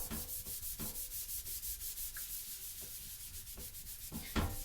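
Soaked sponge rubbed over the oxidised metal body of a fire extinguisher, giving a steady, close scrubbing sound in repeated strokes with a few sharper scrapes near the end.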